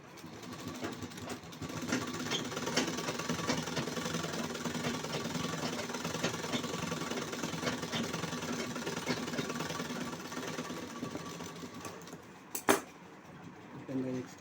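Sewing machine stitching a blouse, a continuous rapid mechanical chatter running at an even pace close by, with a brief clack near the end as it stops.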